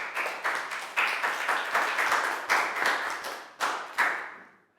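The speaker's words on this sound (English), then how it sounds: "High five and a big round of applause for Annette" A small group of schoolchildren claps in a classroom to cheer a classmate, giving a quick series of crisp, roughly regular claps close by with no voices, ending in a brief trailing decay.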